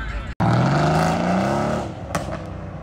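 A Dodge Hellcat engine revs loudly nearby at a street gathering, a rising, roaring tone that swells and then fades, with voices audible around it.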